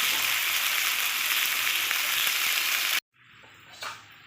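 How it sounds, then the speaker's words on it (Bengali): Potatoes and taro (kochu) frying in hot oil in a pan, a loud, steady sizzle for three seconds that cuts off abruptly, followed by a quieter, fainter hiss with a brief swell near the end. "আলু আর কচু এরকমই ভাজতে হবে"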